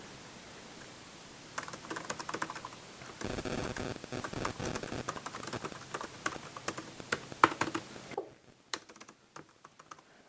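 Steady, rapid typing on the thin keyboard of an inexpensive Auusda laptop. Dense clicking keystrokes run for several seconds, then thin out into scattered, quieter taps, with no voices.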